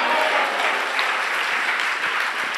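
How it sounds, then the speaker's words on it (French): Sustained applause from a church congregation at a Sunday service, dense and steady clapping filling the room throughout, with no voices standing out. "Si tu peux applaudir, pas pour moi, ça applaudit Jésus."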